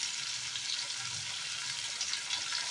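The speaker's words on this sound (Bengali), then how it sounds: "আমি দিয়ে দিচ্ছি মাঝারি সাইজের 1 চামচ আদা বাটা।" Ginger paste and spices fry in hot oil for a cauliflower and potato curry, a steady close hiss of sizzling that runs without a break and with no talk.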